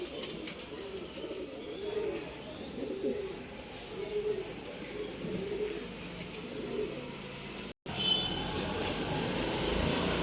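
Pigeons coo softly in a Bangalore loft, their low throaty calls repeating under steady background noise, with a brief gap in the sound partway through.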